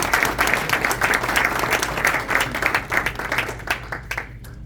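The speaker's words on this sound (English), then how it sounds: "Let's give Gary another round of applause for this." An audience at an Ohio Republican Party chairman candidate forum breaks into a full round of applause, dense and steady clapping that fills the room and tapers slightly at the end.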